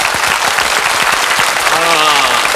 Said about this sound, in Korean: 박수 크게 한번 해주세요.